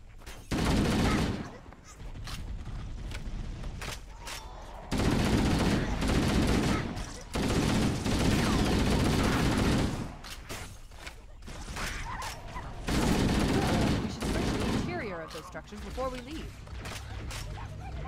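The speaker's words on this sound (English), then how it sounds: "Who's shooting at me?" Loud bursts of automatic gunfire in the video game Halo: Combat Evolved, repeated volleys of several seconds each separated by brief quieter gaps.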